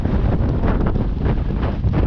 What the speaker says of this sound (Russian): Ветрищи вообще ураганы силы аж сносит.